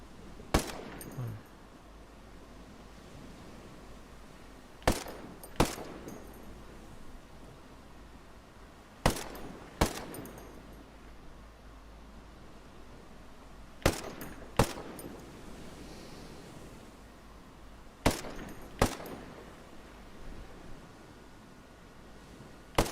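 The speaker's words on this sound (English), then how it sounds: "Okay, 10 rounds from the AK74." An AK-74 assault rifle in the video game Ghost Recon Breakpoint fires about ten sharp single shots, mostly in quick pairs spaced a few seconds apart, over a faint background hiss.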